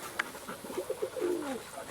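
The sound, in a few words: pigeons near a converted johnny house coop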